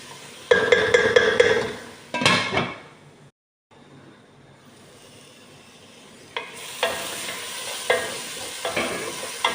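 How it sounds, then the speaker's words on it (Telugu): Ginger, garlic and onions fry and get stirred in a pan for a mutton dish, giving bursts of scraping and sizzling that break off into a short silent gap, then come back with clattering stirring strokes. "అల్లము, తెల్లగడ్డ, ఎర్రగడ్డలు అన్నీ వేగినాయి కదా."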